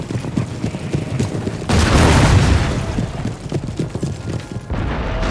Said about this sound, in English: But there's only one cannon shooting